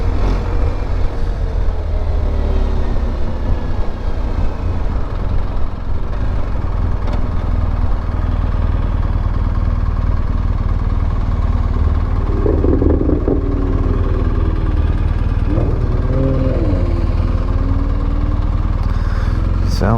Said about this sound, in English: Sounds like the typical rattle noise that a boxer makes.